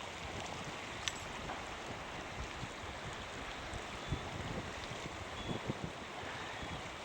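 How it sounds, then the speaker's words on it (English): Steady outdoor wind by a river on the Noatak in Gates of the Arctic, Alaska, rushing and buffeting a microphone, with low rumbling gusts and a few faint clicks, continuous throughout. "It's kind of windy right here and cool."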